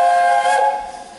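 A short, bright whistle from a LEGO toy train sounds with a steady tone for about half a second, then fades quickly into a faint hiss.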